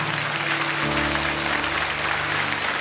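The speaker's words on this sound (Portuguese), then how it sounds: "E agora aplauda bem forte a Jesus." A church congregation applauds loudly and steadily in praise, a dense, continuous wash of clapping with a faint sustained tone beneath it.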